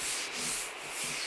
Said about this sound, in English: then we are pretty much done sanding the bonnet